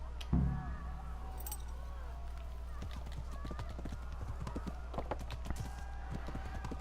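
Rhythmic clip-clop of horse hooves trotting steadily in the video game Kingdom Come: Deliverance, over a constant low hum, with faint talk underneath.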